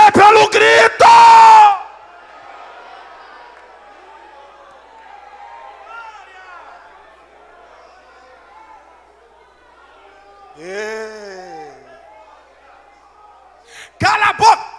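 A church congregation bursts into loud, massed shouting at the start, then a single voice carries over a quiet stretch before another short wave of shouting breaks out at the end.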